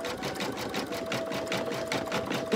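An embroidery machine stitches a honeybee coaster design, a fast steady mechanical whir with even rapid needle pulses running continuously at close range.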